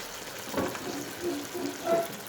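Water splashing into a pan of zucchini and minced meat cooking on the stove, with a soft steady sizzle and a few small pouring bursts, close and moderately quiet.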